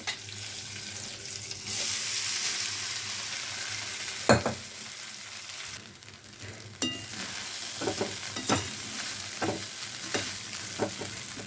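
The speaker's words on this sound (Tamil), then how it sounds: "இப்போ நம்ம அவலை போட்டு கிளறிடலாம்." A spatula stirs flattened rice (poha) in a hot pan for tamarind upma, with a soft steady sizzle under scattered scraping clacks and knocks against the pan, close and moderately quiet.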